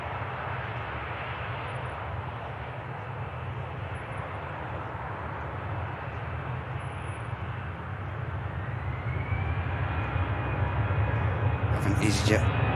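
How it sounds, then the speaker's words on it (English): An easyJet airliner taxis at Manchester Airport, its engines a steady low, broadband roar that builds gradually toward the end, heard from a distance. "EasyJet on the move now. Aircraft heading on the way down to Paris"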